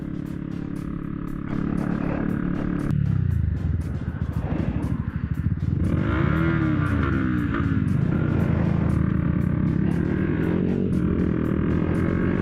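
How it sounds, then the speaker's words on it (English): Yamaha MT-125 motorcycle with a new aftermarket exhaust rumbles past, its engine note rising and falling through revs and gear changes while another engine drones steadily underneath. "drive-bys with this new exhaust"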